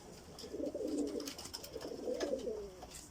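Pigeons coo softly inside a pigeon loft: two low, rolling coos, fairly close, with faint rustling and other birds chirping in the background.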